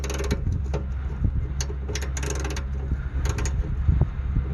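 Ratchet socket wrench tightening a bolt while working on a 1988 Ford Thunderbird, a few short bursts of ratchet clicking under a steady low mechanical hum.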